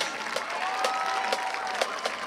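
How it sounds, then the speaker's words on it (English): Steady applause from a crowd at a high school varsity football game, dense clapping throughout with a few louder bursts and whistle-like tones over the top. "let's give a warm round of applause to our alumni"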